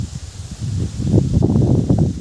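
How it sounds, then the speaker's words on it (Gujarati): Gusty wind buffets and roars for a couple of seconds, loud and close, with rustling leaves mixed in, in a farm garden with coconut trees, with light rain. "પવન જોરદાર છે"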